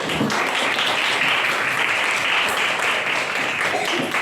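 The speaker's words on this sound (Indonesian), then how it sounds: "Tepuk tangan buat kita." Sustained applause from a classroom audience of students fills the room, dense and steady throughout, with faint voices mixed in.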